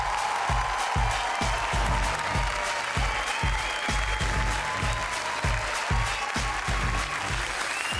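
A studio audience at Greece's Got Talent applauds the act Revolt, dense sustained clapping from a large crowd that stays loud and even throughout.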